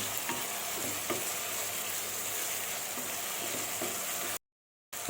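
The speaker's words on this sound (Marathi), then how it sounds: "हे टोमॅटो चांगले मऊ होईपर्यंत आपण कांदा आणि आलं लसणाच्या पेस्ट बरोबर" Tomatoes sizzle and fry in a pan with onion and ginger-garlic paste for a vegetable dum biryani, a steady close hiss with faint stirring taps, then a brief cut to silence near the end.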